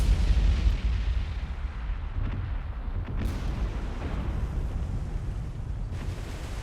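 Naval gunfire and explosions from the War On The Sea game as German destroyers are hit and magazines detonate: a dense, continuous rumble of booming salvos and blasts, loudest at the start, with occasional sharper cracks.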